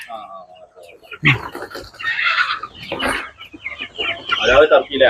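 Chickens cluck and squawk nearby in irregular bursts at a poultry farm with turkeys and ducks, mixed with people talking over them.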